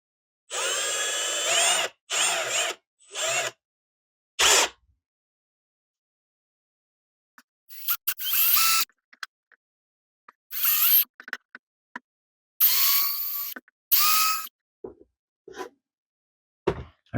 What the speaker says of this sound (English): I'm going to drill a pilot hole in the center for each of these spots